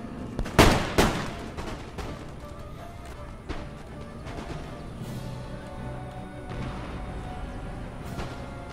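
A sharp burst of overlapping musket volley gunshots up front in the Empire: Total War game, followed by scattered distant shots and rumbling battle noise.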